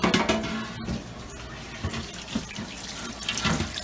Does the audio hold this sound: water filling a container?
yes